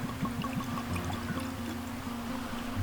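Wolfburn whisky glugs softly into a whisky nosing glass in a short, quiet pour with a gentle rhythmic gurgle, heard alone.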